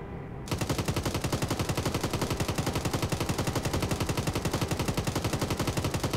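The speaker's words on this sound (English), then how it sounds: "Let's use a machine gun so I didn't have to waste real good ammo" Sustained automatic machine gun fire in the military video game Arma, a rapid, steady stream of loud close shots running unbroken for several seconds after a brief quiet start.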